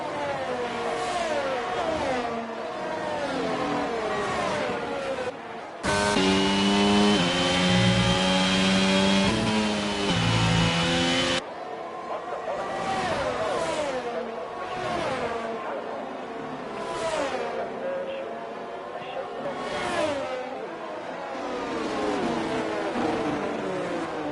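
Formula 1 race car engines in the F1 22 video game at the Hungary circuit scream and rev repeatedly, rising and falling through gear changes, with a stretch of a sustained louder engine tone in the middle, with no voices.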